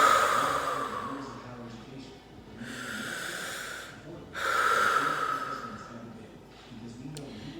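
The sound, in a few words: deep breaths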